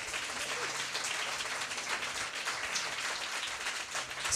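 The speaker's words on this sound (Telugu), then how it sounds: "గట్టిగా చప్పట్లు కొట్టి ఇప్పుడు." A church congregation claps together in a continuous, even patter of many hands, sustained and fairly loud throughout with no letup.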